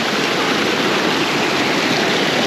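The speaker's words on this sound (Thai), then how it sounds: "น้ำตกตาดสวยงามว้าว" A waterfall in a forest village in northern rural Laos pours with a loud, constant rushing hiss, close and steady with no voices.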